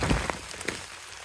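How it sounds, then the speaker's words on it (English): Rain falls harder over a garden, a steady close hiss of drops striking surfaces with a few sharper splatters, no voices. "So, it's starting to rain harder."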